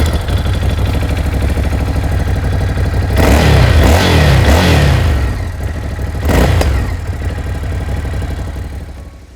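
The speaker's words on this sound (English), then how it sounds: "Our unit came with an aftermarket exhaust that helped the twin motor produce an acceptable rumble" Ducati Scrambler 1100 Sport twin-cylinder engine through an aftermarket exhaust: a steady rumbling idle, then two sharp throttle blips swelling loud before settling back to a low, even burble.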